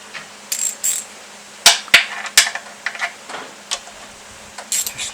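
A ratchet tightens the coil mounting bolts on a 1979 Johnson-Evinrude 9.9/15 outboard motor, giving short bursts of sharp metallic clicks and taps close by, separated by brief pauses.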